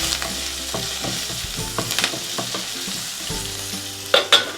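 Asafoetida and dried chillies sautéing in a pan, with a constant close sizzle and soft stirring scrapes, then a couple of sharper clinks near the end.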